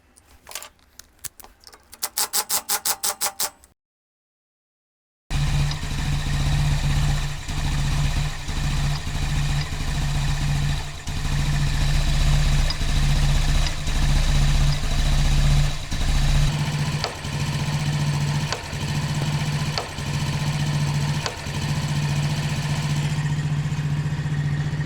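A Daelim Citi Best CB115 motorcycle engine with a woodpecker-like tapping fault runs at a steady idle, close and loud, with a faint regular knock pulsing through the drone; a short burst of rapid clicking and a silent gap come before it.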